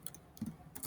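Keys clatter on a computer keyboard in a short, uneven burst of clicks, quiet and close, with no one speaking.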